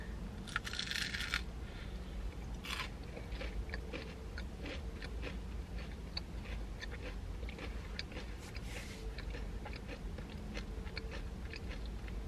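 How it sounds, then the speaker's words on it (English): Someone bites into and chews a huge, crispy peanut butter Crumbl cookie, with close, repeated crunching and chewing sounds over steady background hiss and no talking. "let's go ahead and give it a bite"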